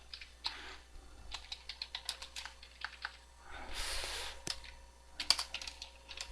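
Keys clack on a computer keyboard nearby in quick, irregular bursts of quiet clicks, with one longer flurry of rapid typing in the middle.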